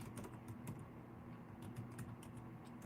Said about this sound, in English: I'm going to actually type it out here